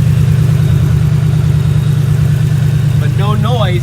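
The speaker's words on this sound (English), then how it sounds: "Got a little exhaust leak. Big one down below." A Ford Triton V8 idles loudly and steadily with a big exhaust leak down below. A voice briefly speaks over the engine near the end.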